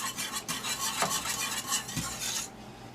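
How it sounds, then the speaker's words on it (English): A spoon stirs a simmering pot on the stove, producing steady scraping and clinking against the pot over a continuous bubbling hiss, with a few louder knocks, close and moderately loud. "Just stir it occasionally so that it's not sticking to the bottom, and let it simmer."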